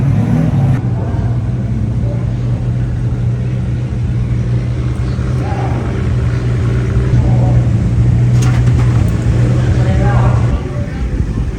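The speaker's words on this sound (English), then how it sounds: "now we're just hanging out, watching some drifting and chilling right now" Cars drifting at Kern Raceway, a steady droning engine rumble with a sustained low tone, heard at a distance under crowd noise and a voice speaking over it throughout.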